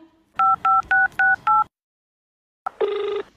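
Five quick two-tone keypad beeps in an even rhythm, a pause of silence, then a short higher electronic tone, all close and clear.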